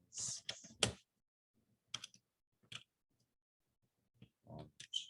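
Typing on a computer keyboard in a quiet room, a few short bursts of sharp close key clicks separated by silent pauses.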